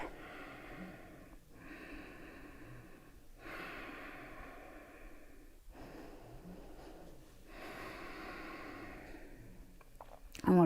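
Slow, audible yoga breathing, long soft inhales and exhales through the nose rising and falling in a steady cycle, close and quiet, with a brief clatter at the very end.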